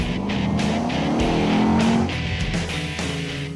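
Mercedes SLK 55 AMG convertible driven hard at an airstrip, its engine revving up in a rising pitch then shifting and dropping back, loud and close with a throaty exhaust note.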